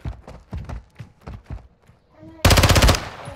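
Automatic gunfire in the video game Call of Duty: Modern Warfare II DMZ, a loud half-second burst of rapid shots that comes right after someone speaks excitedly.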